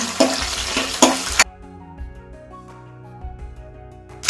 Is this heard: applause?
no